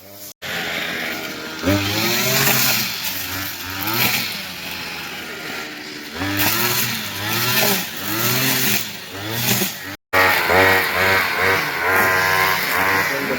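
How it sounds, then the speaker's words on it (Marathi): A grass cutter clears overgrown weeds along a Konkan roadside, its engine whining in repeated rising and falling revs, close and loud, with short pauses between bursts. "पप्पा तो ग्रास कटर मारतो"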